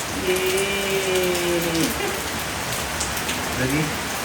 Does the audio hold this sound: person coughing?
no